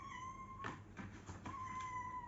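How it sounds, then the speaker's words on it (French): A pet cat named Frimousse meows indoors, two or three drawn-out, fairly faint meows in a row with a quiet electrical hum underneath. "Kikia, tu crois franchement que c'est le moment de miauler, Frimousse?"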